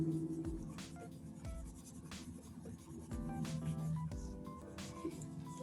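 Light pencil shading on paper gives soft, close scratchy strokes in a loose back-and-forth rhythm, quiet and with no one speaking.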